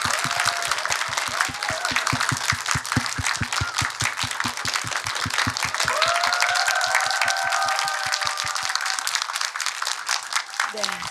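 An audience at a live movie-talk event for the Korean film Forbidden Dream (Cheonmun) claps for the director and actors Choi Min-sik and Han Suk-kyu, with steady, dense applause lasting throughout and a few brief tonal cheers mixed in.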